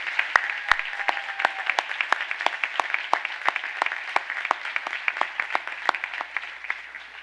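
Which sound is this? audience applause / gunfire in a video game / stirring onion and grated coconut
audience applause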